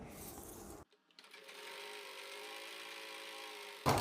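A sewing machine stitches a shirt collar in a steady, even whir, starting after a brief pause and running continuously at moderate volume, with no voices.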